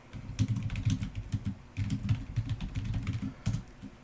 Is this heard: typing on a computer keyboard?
yes